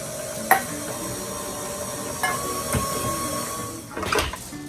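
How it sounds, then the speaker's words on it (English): Stand mixer running at medium-low speed while an egg goes in, a steady close motor whir with a humming tone throughout, broken by a few soft knocks and clinks of the bowl. "Put your stand mixer on medium, low, and add your egg."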